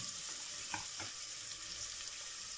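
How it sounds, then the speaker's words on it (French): Onions frying in melted butter in a pan, a soft steady sizzle with a couple of light clacks early on, close and without talking. "on va commencer par ajouter en premier les oignons"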